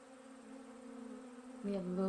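Buzzing of a small bee fly, a steady insect drone close by that grows louder and rougher near the end as it moves nearer or flutters.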